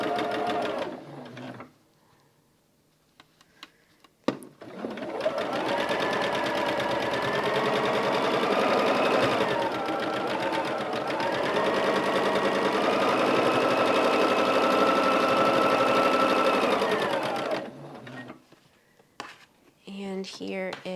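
A domestic sewing machine stitches pieced quilt rows together, running steadily and loudly for about thirteen seconds with a slight change in pitch midway, framed by quiet handling sounds before and after.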